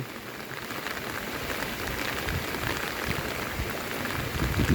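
Steady rain pours onto surfaces outdoors around a rural home and fields in Thailand, a dense continuous hiss with scattered drops that grows a little louder toward the end, with no voices.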